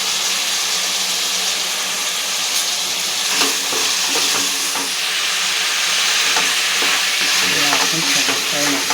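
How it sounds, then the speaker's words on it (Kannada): Spices such as turmeric and black pepper powder fry loudly in a pan for Karnataka nati-style mutton pulao. A dense, continuous sizzle close by carries intermittent scraping stirs, with no voices. "ಹಾಕೊಂಡು ಚೆನ್ನಾಗಿ ಫ್ರೈ ಮಾಡ್ಕೊಬೇಕು."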